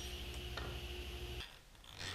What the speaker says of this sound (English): not everyone has such a high-tech egg beater drill like this